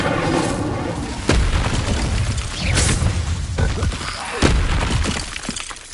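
Incendio fire spells cast in Hogwarts Legacy on PS5 during combat, several booming bursts with shattering cracks amid ongoing battle sounds, a voice shouting spell names between them.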